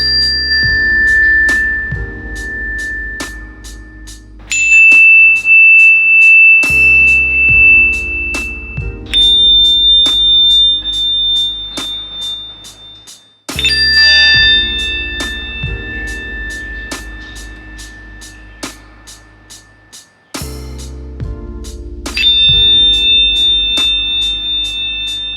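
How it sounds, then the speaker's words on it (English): Toka bars, a set of metal chimes, ring out in clear sustained tones, several strikes layered and decaying over a low rhythmic backing, with pauses between phrases. "They're actually called toka bars."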